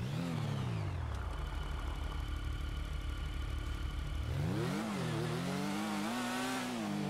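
A motorcycle engine revs hard, its pitch sweeping up and down, settles into a steady idle, then revs again in rising and falling bursts, loud and close.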